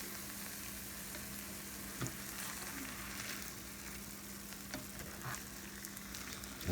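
Eggs and hamburger meat fry in a pan with a steady close sizzle, broken by a few soft scrapes and stirring knocks, with no talking.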